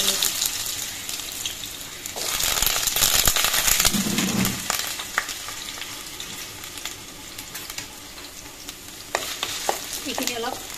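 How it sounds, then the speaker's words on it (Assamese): Potato pieces stir-fried in hot oil in a kerahi wok: a loud, continuous sizzle with scraping stirring bursts that swell in the first half, then settle to a steadier frying hiss. "ইতিমধ্যে কেৰাহীটোত তেল গৰম হ'বলৈ দি দিছো এতিয়া ইয়াত প্ৰথমতে আলুখিনি অলপ ফ্ৰাই কৰি লওঁ"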